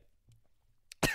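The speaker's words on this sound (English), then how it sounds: "Back from a coughing fit." A single harsh, loud cough bursts out at the very end of a brief, nearly silent moment, part of a coughing fit from someone whose throat is scratchy.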